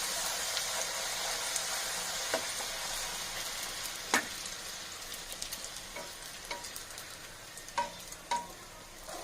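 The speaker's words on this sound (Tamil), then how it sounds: "இப்படி போட்டதுமே இப்படி எண்ணெய்க்குள்ள அமுக்கி அமுக்கி விடுங்க லைட்டா" Poori deep-frying in hot oil as it is pressed down, a steady loud sizzle throughout with occasional sharper bubbling pops and spatters, no talking.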